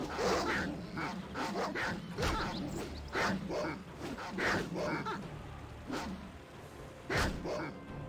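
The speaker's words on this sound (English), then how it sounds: "I'm gonna go down here and fight some war dogs" War dogs in Baldur's Gate bark, yip and whimper in repeated sharp bursts amid combat noise, a steady barrage of close canine cries throughout.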